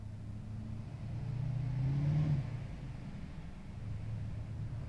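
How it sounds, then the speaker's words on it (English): A car passing by outside at night, a soft engine rumble swelling to a peak midway then fading back into a steady low background hum. "That was a car. That was a car,"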